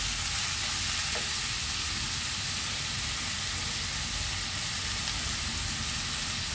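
Onions frying in a pan for a Bengali Bombay duck dish with gondhoraj lime, giving a steady, dense sizzle that runs unbroken at even loudness throughout, with no voices.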